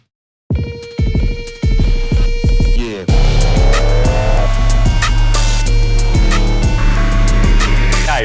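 A Toyota LandCruiser 300 Series launches hard at a drag strip. Revs build first, then a sudden loud surge of engine roar and tire noise holds steady and close, with no talking.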